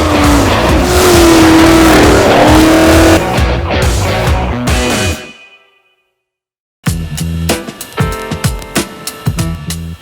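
A 2019 Camaro SS with a 455-horsepower 6.2-liter V8 roars loud and close, then drops into several seconds of silence before bursts of engine and tire noise return in short, uneven surges.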